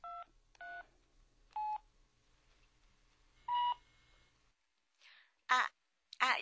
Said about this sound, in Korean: 체리는 수시로 전화를 걸어왔다